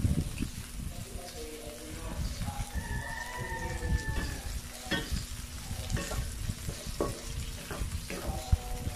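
Miso sautés in a pan with garlic, onion, tomato and ginger for salmon-head sinigang, a close crackling sizzle marked by repeated scraping stirs and brief clinks.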